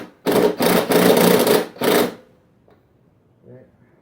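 An impact wrench drives 3/8 bolts during an engine swap on a Craftsman lawnmower, firing several loud, close hammering bursts over about two seconds before falling quiet.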